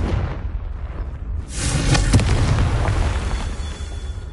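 A fiery spell blast from Hogwarts Legacy erupts in a loud, rumbling boom after a quieter lead-in, its crackling roar swelling and then lingering as a fading rumble.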